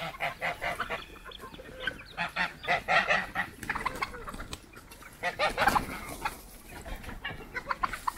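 Turkeys on a farm give repeated honking, gobbling calls in uneven bursts, close and fairly loud.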